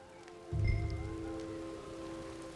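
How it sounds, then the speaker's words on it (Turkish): Rain beginning to fall in the video game Red Dead Redemption 2, a soft hiss that swells in suddenly and then holds as a steady patter beneath sustained musical tones. "Yağmur da yağmaya başladı."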